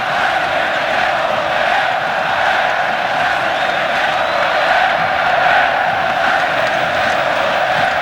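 A huge stadium crowd roars in a steady, loud, unbroken wall of cheering after a goal at the 1996 futsal world championship final between Spain and Brazil in Spain.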